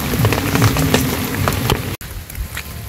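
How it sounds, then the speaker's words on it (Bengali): Rain falls steadily in a village, a dense close patter of drops on surfaces that drops to a softer drizzle after a brief break. "বৃষ্টি পড়তে আছে টিপ টিপ"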